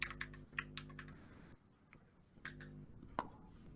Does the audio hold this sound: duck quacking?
no